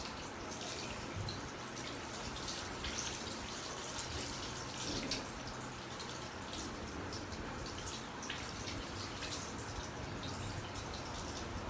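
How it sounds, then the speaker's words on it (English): Running tap water streams steadily over hands as soap is rinsed off. The rushing, hissing flow is constant and fairly close, with no voices. "You just let the rushing water or the flowing water, the running water to flow in your hands to remove all the soap present in your hands."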